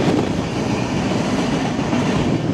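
A passenger train runs near the India-Bangladesh border, heard from on board as a loud, continuous rumble of wheels and carriages with no voices.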